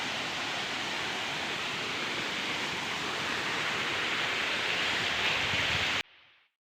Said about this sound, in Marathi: सगळीकडे धबधबेच आहेत.